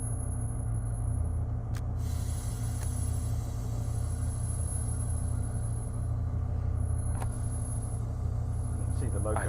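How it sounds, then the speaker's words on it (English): A diesel locomotive in Train Sim World 5 gives a steady, loud low engine rumble that runs throughout, with brief hissing brake releases breaking in now and then. "I love the noises of diesel engines."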